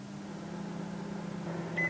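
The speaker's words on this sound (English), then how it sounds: "Over to my microwave, and I'm going to give that perhaps 10 seconds." A microwave oven hums steadily for a short warming run, then gives a single high electronic beep as it finishes, close and fairly quiet.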